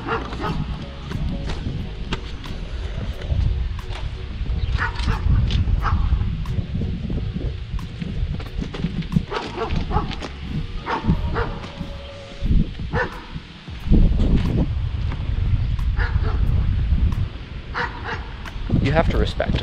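A dog barks from a nearby backyard close to freight train tracks, repeated yips and barks scattered through the stretch beneath someone talking and outdoor rustling.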